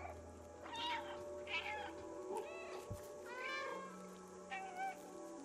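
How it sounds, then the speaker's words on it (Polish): The cat in the video game Stray meows several times in short, clear, rising cries spread across the moment, with a player's voice talking faintly underneath at times. "Mogę miauczeć, ale jaja."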